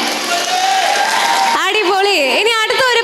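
An audience claps for about a second and a half after a song at a live stage show, then a voice speaks over the fading applause.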